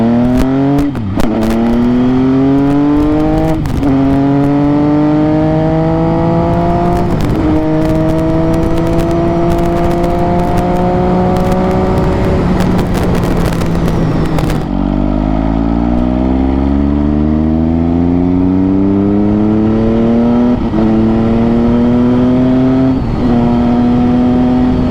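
An MV Agusta motorcycle engine revs hard through repeated rising sweeps and gear changes, loud and close throughout, climbing in pitch with each pull before a sharp drop and another long climb.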